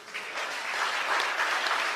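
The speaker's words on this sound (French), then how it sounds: "Donc, il faut encore l'applaudir." A crowd at a political candidacy announcement in Mont-Dore claps steadily, moderately loud applause filling the whole stretch without speech over it.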